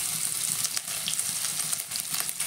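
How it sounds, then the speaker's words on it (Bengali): Grated ginger and a few garlic cloves frying in oil in a wok, giving a steady close hiss and crackle with faint bubbling pops and no voices. "আদা রসুনটা একটু ভেজে নেব"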